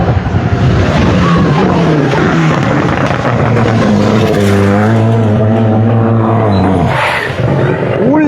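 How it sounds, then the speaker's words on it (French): An Alpine A110 GT+ rally car arrives on a special stage of a national rally, its engine loud and close, revving and shifting pitch up and down as it passes, with faint crowd noise behind. "troisième équipage qui va arriver, c'est Jérôme Chavannes, associé à Émilie Galeano sur l'Alpine A110 GT+"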